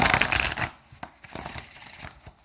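Tarot cards being shuffled, a loud riffling burst followed by several softer, separate snaps and taps as the deck settles, close by.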